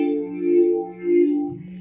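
Electric guitar played through univibe, flanger, chorus and a little reverb, sustaining swirling, wavering tones that swell and fade in two long phrases, alone and fairly loud.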